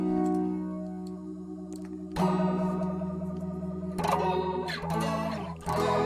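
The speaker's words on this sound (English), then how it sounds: "this is the trem flange." An electric guitar plays chords through an Ampero 2 tremolo flanger effect, pulsing and swirling, notes sustaining and wavering, with several fresh strums and no talking.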